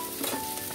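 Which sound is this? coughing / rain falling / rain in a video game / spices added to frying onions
spices added to frying onions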